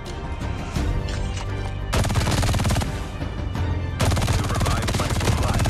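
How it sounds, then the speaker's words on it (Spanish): Machine gun fire in Call of Duty Mobile rattles in dense, rapid bursts, loud and close, with a brief dip before the firing surges again and keeps pounding without spoken words. "Tengo una ametralladora, por lo que no me deja moverme rápidamente."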